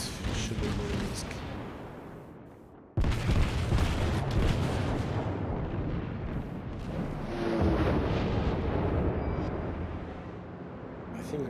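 Battleship main guns fire in the World of Warships naval game, as the Japanese Kongo class battleship unleashes one loud sudden boom followed by a long rumbling roar of shells and explosions.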